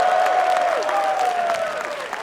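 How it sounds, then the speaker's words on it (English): A large crowd at a Dota esports tournament quarterfinal in New York claps and cheers loudly, a dense wash of applause with a steady tone humming underneath. "Give a big round of applause to EG."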